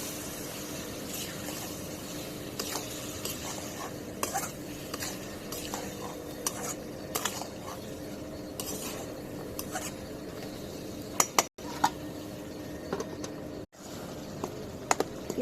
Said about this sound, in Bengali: নাড়া দিয়ে দিই, টমেটোগুলো বাইন্ডা দিই।